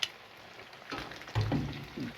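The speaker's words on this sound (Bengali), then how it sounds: "ও মাছ তেলে দিছি সবটা, ওগুলা রসুন দিয়ে পেঁয়াজ রসুন দিয়ে ভাজতেছি তেল ফলাইয়া" Pieces of fish frying in oil with onion and garlic in a home kitchen pan, a soft sizzle that swells in a few bursts as the food is stirred, fairly quiet and close.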